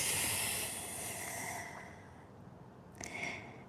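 A long, breathy exhale during a morning yoga stretch, fading over a couple of seconds, followed by a shorter soft breath; close and quiet with no talking.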